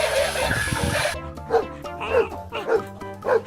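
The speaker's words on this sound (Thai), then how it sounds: "dog" An electric toy dog gives a run of rapid, yappy electronic barks over a tinny tune, loud and close, after a burst of noisy sound at the start.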